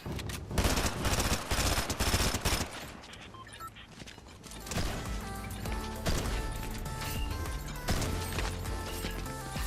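Gunfire in the battle-royale game Warzone: rapid, loud bursts of automatic fire and shots, dense at first and then more scattered, layered over steady in-game music and effects.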